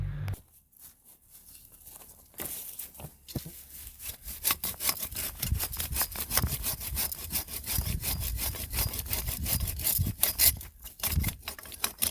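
Tree stumps on a wooded trail property being sawn flush with the ground, a steady rasping saw stroke repeating fast and loud up close for several seconds after a brief quieter start.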